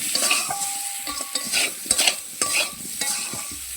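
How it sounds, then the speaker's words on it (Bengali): Potatoes fry in a pan with turmeric, chili powder and salt while a utensil stirs them, giving a close, sizzling hiss broken by repeated scraping strokes and clinks. "এটাকে আমি ভালো করে কষিয়ে নেবো, এটাকে একটু ভেজে নেবো ভালো করে।"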